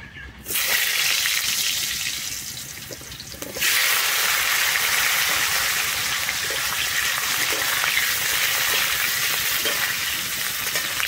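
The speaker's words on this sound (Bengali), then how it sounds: "আমি প্রথমে আলুগুলোকে ভেজে নেব।" Potatoes frying in mustard oil in a wok on the stove, a steady loud sizzle that jumps in intensity a few seconds in and then holds a dense, continuous crackle throughout.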